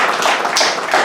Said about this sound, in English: So let's give the two boxers a big round of applause.